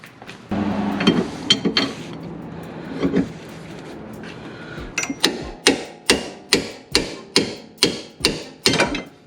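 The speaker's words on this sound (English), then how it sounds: "a hammer, and we can pop the axle out" Metal clanks and scraping at first, then about nine sharp, evenly spaced hammer blows ringing on metal, knocking out a Lexus IS300 differential axle, loud and close.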